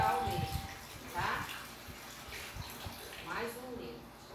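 Tap water runs from a faucet into a container, a steady soft splashing hiss under close talk, used for making aluminium-cleaning detergent from a bar of soap.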